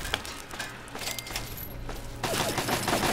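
An automated turret in Fallout 3 firing rapid bursts, a dense crackling fusillade that grows louder and more continuous in the final second, with mechanical clicks earlier.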